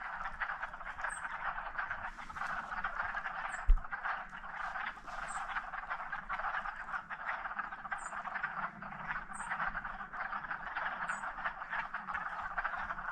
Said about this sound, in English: I think it's frogs.